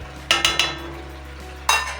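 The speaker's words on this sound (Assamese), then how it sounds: "মই আৰু 5 মিনিটমান সময় মাংসখিনি ভাজিম" Mutton pieces fry in a pan under a low steady sizzle. A quick run of three sharp metallic spatula clinks is followed by another clink a moment later.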